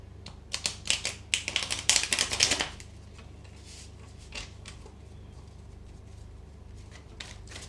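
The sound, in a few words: shuffling tarot cards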